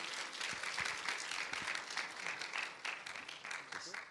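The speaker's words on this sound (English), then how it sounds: "Please, Fred, a warm round of applause." A warm round of applause from an audience at an education and employment skills forum greets a speaker named Fred, steady crowd clapping throughout with some speech-like sounds mixed in.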